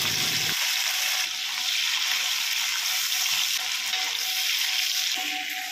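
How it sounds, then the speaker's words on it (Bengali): Prawns and prawn heads frying in mustard oil in a pan, a dense close hiss of sizzling that holds steady and loud with brief shifts in tone. "সর্ষের তেল দিয়ে চিংড়ি মাছ আর মাথাগুলো ভেজে নিচ্ছি"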